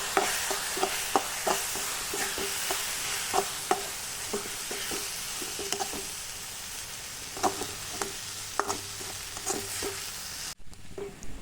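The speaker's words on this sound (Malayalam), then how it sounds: "ഗരം മസാല, മല്ലിപ്പൊടി, മീറ്റ് മസാല, മുളക് പൊടി, കുരുമുളക് പൊടി, മഞ്ഞൾപ്പൊടി അതൊക്കെ ഒന്ന് തട്ടി കൊടുത്തിട്ട് നന്നായിട്ട് അങ്ങോട്ട് ഇളക്കുക." Spices such as garam masala, coriander, meat masala, chilli, pepper and turmeric are stirred through a frying mixture in a pan for beef roast, with steady sizzling broken by repeated scraping strokes of the spoon.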